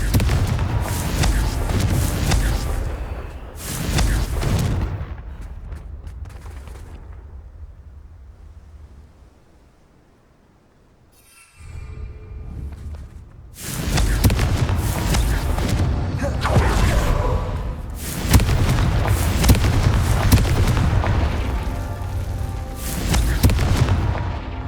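Fire-blast Confringo spell explosions in Hogwarts Legacy gameplay: loud booming blasts in bursts near the start, a quieter lull, then several more heavy, rumbling explosions in quick succession.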